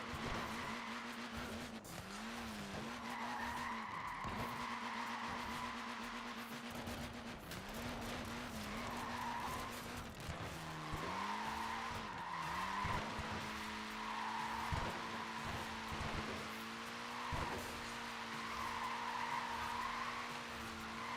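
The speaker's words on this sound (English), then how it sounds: "Look at that, laying down some rubber there." Tyres on a small car with tiny wheels skid and squeal repeatedly over a steady engine drone, laying down rubber in long screeching bursts with rising and falling pitch.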